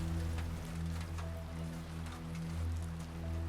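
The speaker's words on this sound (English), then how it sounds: "Rain begins to fall in heavy sheets, causing the road to steam." Heavy rain pouring down in sheets onto a road, a steady dense hiss that holds evenly throughout over a low droning hum, with no voices.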